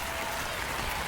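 A home crowd at a baseball game roars and applauds after a home run, a dense, loud, continuous wash of cheering without a break.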